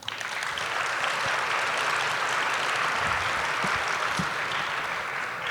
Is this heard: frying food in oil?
no